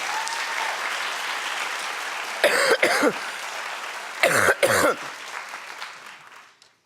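Two pairs of sharp, close coughs stand out over a steady hiss of background noise that fades away at the end.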